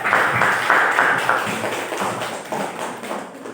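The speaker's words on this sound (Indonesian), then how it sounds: "Tepuk tangan sebelumnya untuk Mas Ragil." Classroom applause from students, a dense patter of many hands clapping at once, loud at the start and gradually thinning and fading over a few seconds.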